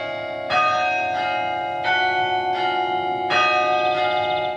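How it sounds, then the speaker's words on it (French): A church carillon in the small belfry of the village of Longpont rings out a tune composed in 1913 by organist Louis Vierne, with successive resonant bell strikes lingering and overlapping, clear and fairly close. "Dans le clocheton résonne un air que les habitants connaissent bien."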